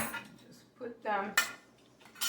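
Non-fat beans being scooped out of a can into a bowl, with a few scraping clinks of a utensil against metal and a soft wet plop, close and fairly quiet.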